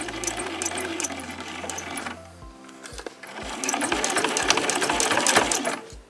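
A sewing machine stitches a fabric bin, running in steady bursts of rapid mechanical chatter with short pauses and restarts between seams, close and loud, with no talk.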